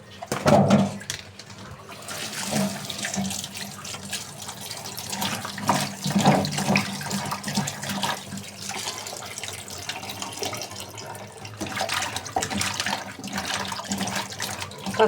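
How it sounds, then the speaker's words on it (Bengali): Pointed gourds are rinsed under a steadily running kitchen tap, a continuous close splashing stream with occasional clatters of handling. "কাঁকরোলের ভিতরে বালু থাকে, এই জন্য কাঁকরোলটা একটু ভালোভাবে ধুয়ে নিতে হয়"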